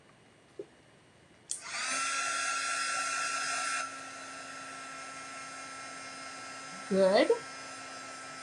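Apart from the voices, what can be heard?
heat tool or dryer drying a wet stencil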